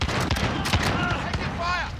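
Rapid gunfire and explosions crackle in a Call of Duty: Modern Warfare multiplayer match, loud bursts of shots overlapping densely with a voice calling out over the battle.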